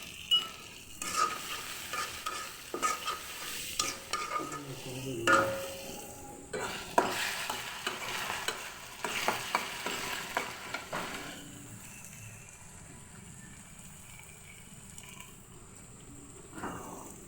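Onion, ginger paste and spices fry in a pan, with frequent spatula scrapes and clinks over a quiet sizzle for most of the stretch, then a calmer hiss with one last scrape near the end.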